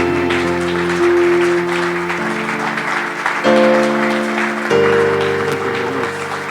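Church congregation applauding to welcome the servants of God, a steady wash of clapping blended with sustained keyboard chords that shift pitch every couple of seconds.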